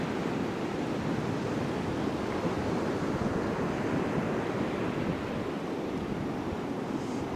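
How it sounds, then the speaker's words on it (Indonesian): Afternoon surf at Batu Hiu beach in Pangandaran, a continuous loud wash of breaking ocean waves with wind buffeting the microphone and no voices. "Ombaknya mulai besar karena mulai sore."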